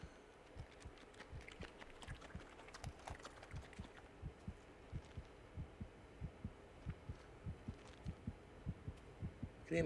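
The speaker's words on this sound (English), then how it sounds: "I can hear my heartbeat going again." Heartbeat sound effect from The Cursed Forest video game, a steady, rhythmic low thumping of paired beats repeating throughout over a faint hum, with no speech.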